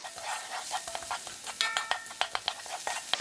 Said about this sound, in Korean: 먼저 아까 다져놓은 채소를 먼저 볶아줄게요